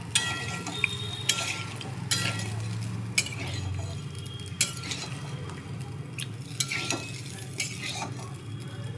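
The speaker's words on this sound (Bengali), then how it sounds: "আলু দিয়ে মশলার সঙ্গে কষিয়ে নেব" Boiled potatoes stir-fried with spices and green chilli in a pan for aloo dum, a low steady sizzle under repeated scraping and clinking of a metal spoon against the pan, close and without speech.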